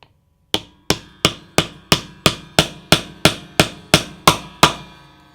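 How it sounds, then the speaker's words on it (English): A hammer taps press-fit bridge inserts into an electric guitar, twelve evenly spaced sharp metallic knocks in a steady rhythm, close and clear with no talk. "don't hit it directly with the hammer, and tap it in"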